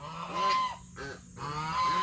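Several geese honk nearby in repeated nasal blasts, with a high-pitched tone running faintly underneath.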